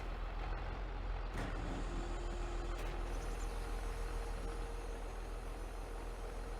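A large sprayer unfolding in Farming Simulator 22, a steady low engine drone with hydraulic hiss, a sharp air-brake-like release and a faint thin tone, continuous and moderately loud.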